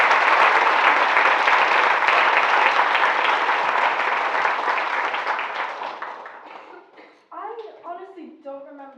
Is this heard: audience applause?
yes